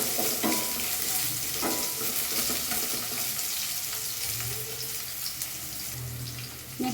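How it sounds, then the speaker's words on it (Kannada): Onions sizzle and fry in hot oil in a pan for a brinjal dish, a dense, steady crackling hiss up close with occasional stirring scrapes. "ಈರುಳ್ಳಿ, ಸ್ವಲ್ಪ ಈರುಳ್ಳಿ ಕಲರ್ ಚೇಂಜ್ ಆಗೋವರೆಗೂ 1-2 ಮಿನಿಟ್ಸ್ ಫ್ರೈ ಮಾಡ್ಕೋಬೇಕು."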